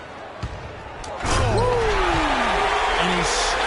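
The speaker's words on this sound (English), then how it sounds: "And he slams it one-handed." A one-handed basketball slam dunk during a Cavaliers game lands as a brief bang, followed by a roaring arena crowd with squeaking sneakers and an announcer talking over it.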